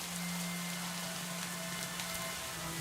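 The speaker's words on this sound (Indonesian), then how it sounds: "Aduh, hujan lagi." Steady rain falling in the Minecraft video game, a constant hiss of drops with a low tone running beneath it, even and unbroken from start to end with no talking.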